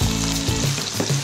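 Merguez sausages sizzle and spit in a hot pan with no added fat, a dense crackling frying sound up close, continuous with a few louder pops.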